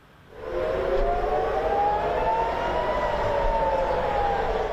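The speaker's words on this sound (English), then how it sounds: "But explosions bombed and sirens sounded across northern Israel mid-morning." Air raid sirens across northern Israel wail, rising and holding a steady, sweeping tone over a low rumble, loud and continuous after a quiet start.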